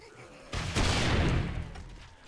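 A rocket launcher fires in the 7 Days to Die survival game, a single loud, close blast with a sharp onset that swells into a broad roar and slowly trails off.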